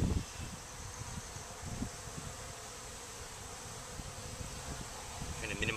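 Honey bees swarm and buzz around an opened backyard hive during a midsummer inspection as frames are pushed back into place, a steady insect hum with soft rustling and handling noises close by.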